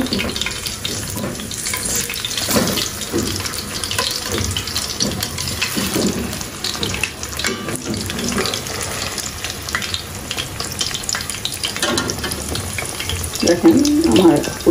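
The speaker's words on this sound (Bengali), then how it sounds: "খুব সুন্দরভাবে ভাজা হচ্ছে" Folui (featherback) fish kofta fries over low heat in a pan, sending out a constant close sizzle and crackle, with a short clink near the end.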